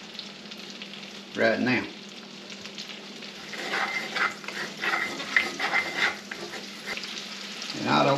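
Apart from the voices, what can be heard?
white ends of bunching onions frying in a pan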